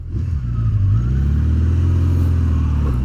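A quiet custom bobber motorcycle engine rises and holds a steady, low drone as it pulls away, fairly loud and close, with no voices.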